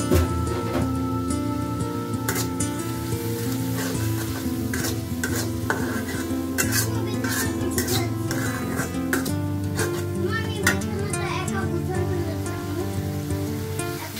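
Prawns, fish and spices with coriander, cumin and salt stirred and fried in a pan for a prawn and pumpkin curry, a steady loud sizzle broken by repeated sharp clinks and scrapes of the spoon throughout.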